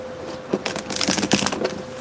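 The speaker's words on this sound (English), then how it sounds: "I'm going to do one more shuffle." Tarot cards are shuffled by hand during a reading, giving a quick run of crisp, papery riffling bursts close to the microphone over a low steady hum.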